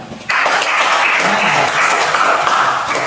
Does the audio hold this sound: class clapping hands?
yes